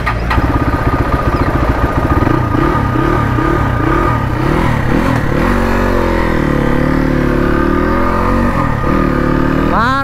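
A motorcycle that is hard to start cranks with rapid, uneven chugging for several seconds, then catches and runs in a loud, rough, steady drone before a short rising rev at the end.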